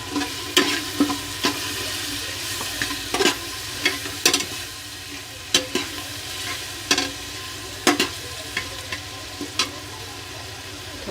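Rice frying with garam masala, turmeric and red chilli powder in a pan, a steady sizzle broken by repeated sharp scrapes and clanks of a spoon stirring, close and rhythmic.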